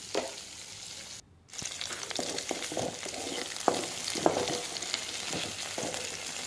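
Ingredients with coconut being sautéed slowly in a pan over a low flame, a constant soft sizzle broken by repeated scraping stir strokes, with one short gap early on.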